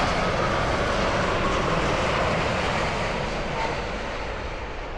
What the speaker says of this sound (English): Nice aeroplane.